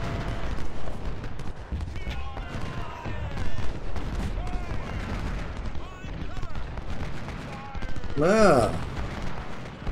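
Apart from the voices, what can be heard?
musket and artillery fire in Ultimate General: Civil War video game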